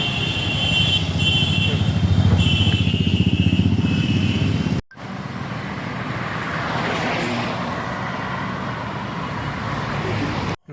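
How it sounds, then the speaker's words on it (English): Dense street traffic in Kolkata at night beneath a metro bridge during Durga Puja, with cars and motorcycles passing close in a steady, loud roar that briefly cuts out, then resumes with rushing engines. "Still traffic is there."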